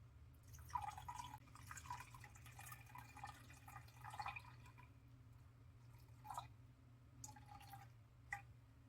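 Water trickles and drips into a cup to make lye water for soap, a soft steady pour with a few brighter splashes, close by and fairly quiet.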